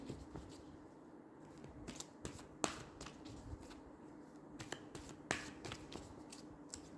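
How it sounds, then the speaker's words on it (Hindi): Playing cards shuffled and drawn from a tarot-style reading deck, heard as a run of crisp snapping flicks and riffles, alone and close, with a few sharper slaps spaced through the stretch. "चलिए इसमें से कार्ड निकाल देती हूँ"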